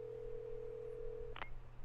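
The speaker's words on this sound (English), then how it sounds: "A phone? At this time?" A telephone rings in the video game The Walking Dead Season 3: a steady electronic tone holds for over a second, then a brief, brighter burst cuts in over a low background hum.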